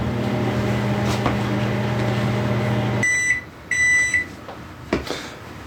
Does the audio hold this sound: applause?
no